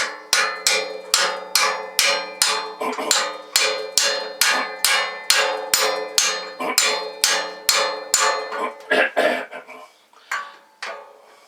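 A steel drift is struck steadily with a hammer to seat a shaft bearing into a tube on a Bachtold high weed mower, about twenty sharp metallic blows in a regular rhythm, loud and close, slowing near the end.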